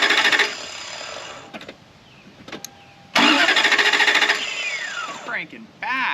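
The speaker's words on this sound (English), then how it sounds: "try cranking it for like 3-second intervals or something to try to get the oil worked up" A Lexus that has sat for ten years cranks over in bursts, the starter churning loud and close with pauses between attempts and a fresh burst near the end, and people talk around it.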